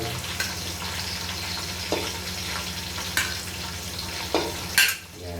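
Garlic and onion sizzle steadily in a pan, loud and close, broken every second or so by sharp scrapes and clatters of a stirring spoon.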